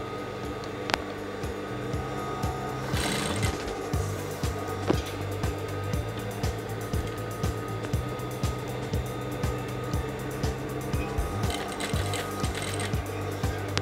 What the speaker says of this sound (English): Now I'm stitching the edges of the seam allowance as I explained earlier.